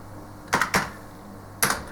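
Three sharp key presses on a ZX Spectrum computer keyboard, two in quick succession then one more after a pause, close and fairly loud over a faint steady hum.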